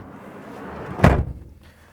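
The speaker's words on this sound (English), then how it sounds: "close the door," A single solid slam of a 2017 Citroën Spacetourer van door, close by, followed by a short muffled rattle in a quiet interior.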